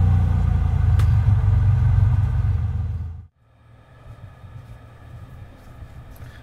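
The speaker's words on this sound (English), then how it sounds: "They have made very good sound files for this aircraft with incredibly realistic engine sound extending in the very low frequency range." Flight simulator aircraft engine running rough, a loud, deep low-frequency drone that holds steady for about three seconds, cuts off abruptly, then returns as a quieter, uneven rumble.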